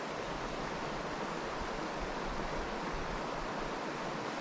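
Water in a stream flowing and eddying into a small pool about three feet deep, heard as a steady, dense rushing hiss that stays even and fairly loud throughout.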